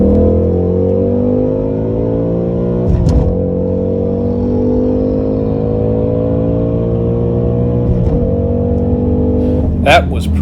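A 2021 Ford Mustang Mach 1 and a Camaro ZL1 accelerate hard side by side from about 40 mph, their engines droning and climbing in pitch through clean gear shifts, with a voice talking over the roar.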